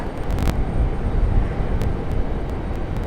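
A JetBlue Airbus A220 airliner at Raleigh-Durham International Airport gives off a steady, broad jet roar with a deep rumble, holding at an even loudness throughout with no voices.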